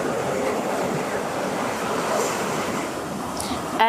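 Sea waves surge onto a beach and wash back in a steady, broad roar of surf that carries on without a break, fairly close and moderately loud.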